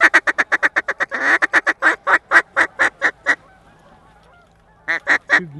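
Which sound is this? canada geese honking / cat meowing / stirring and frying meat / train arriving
canada geese honking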